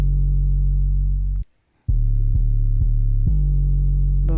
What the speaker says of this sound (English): you can hear that this 808 also has some distortion on it